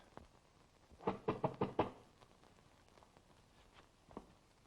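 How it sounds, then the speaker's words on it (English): Knocking on a door in a 1933 comedy film: a quick run of five sharp raps, fairly faint against a hissy old soundtrack, followed by a few scattered softer taps. "I think there's someone at the door."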